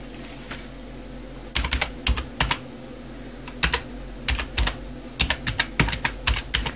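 Someone types a command into a Windows 11 setup command prompt on a computer keyboard, with quick bursts of crisp, close key clicks separated by short pauses over a steady low background hum.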